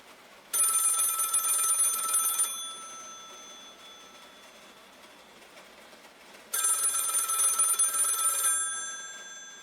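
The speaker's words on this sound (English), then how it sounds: "The phone rang before I'd finished the sentence." An old-fashioned telephone bell rings loudly in two long bursts of about two seconds each, separated by a few seconds of quiet hiss, bright, metallic and close with no voices.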